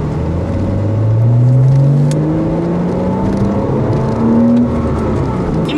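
A Porsche Boxster with a naturally aspirated engine pulls away from a second-gear start toward about 4000 rpm, its engine note climbing steadily and loud, dipping briefly at a shift and then rising again with no talking.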